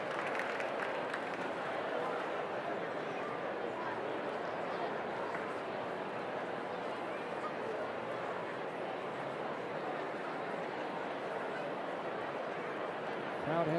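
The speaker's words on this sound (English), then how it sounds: "Crowd has a bit of a buzz and a little life to them tonight." Steady, dense murmur of a baseball stadium crowd on a Friday night, Memphis against Durham, a constant wash of many distant voices and chatter without pauses, holding at an even level throughout.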